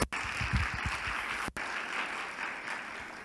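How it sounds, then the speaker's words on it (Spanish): Audience applause for Dr. Ramírez at a medical conference session, a broad wash of many people clapping, steady and fairly loud, briefly cut by two abrupt gaps, with no speech over it. "un aplauso a la doctora"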